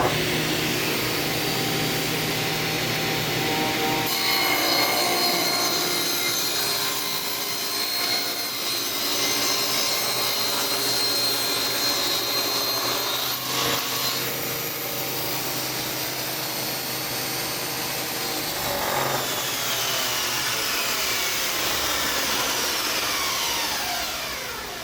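A table saw cuts through a wooden workpiece in a woodworking workshop, a loud steady whining roar of blade and motor that holds for about twenty seconds with slight shifts in pitch as the board feeds through.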